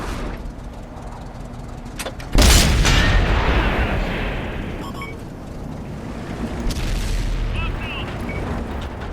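A tank cannon fires in an Xbox tank game with a sudden heavy boom, followed by a long rolling rumble and engine noise, with a voice speaking over it.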